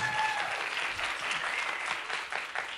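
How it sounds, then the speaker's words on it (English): Audience applause at a grand sing event of Chayolei Hamelech, a steady crowd of clapping hands heard from a moderate distance, even and sustained throughout. "give him a round of applause for that"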